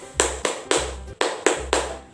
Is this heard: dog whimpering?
no